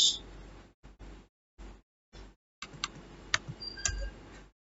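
Keys tapping on a computer keyboard while entering Cisco Packet Tracer configuration commands, in short separate bursts of clicks with pauses between, then a denser run of typing with a few sharper clacks, close and fairly quiet with no talking.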